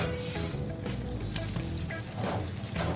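Masala upma being stirred and mixed on a hot dosa griddle as part of a street-food pizza dosa: continuous loud sizzling and frying with scraping spatula strokes, close up and without talk.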